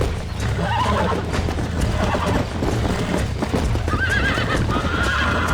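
Horse neighing and snorting over repeated thudding hoofbeats during horse taming in the video game Red Dead Redemption, loud and close, with game-like effects and no talking.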